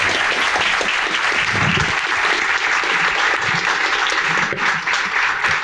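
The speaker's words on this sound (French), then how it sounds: "je crois qu'on peut remercier, applaudir Hugo Dumigny-Le-Copain" Audience applause after a French talk, steady clapping from a crowd that holds at an even, moderately loud level throughout without any speech over it.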